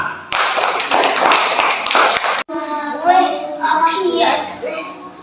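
Children in a primary school class clap their hands in a quick burst of dense, close claps lasting about two seconds, followed by children's voices talking.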